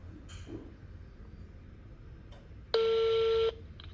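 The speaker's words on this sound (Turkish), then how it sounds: "112 çağrı merkezini arayayım" A repaired iPhone 7 Plus calls the 112 emergency centre, sounding faint scattered touches and then one loud steady tone that lasts under a second against quiet room noise.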